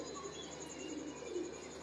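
A pigeon coos softly and low nearby, a faint throaty murmur over a steady high-pitched background whine.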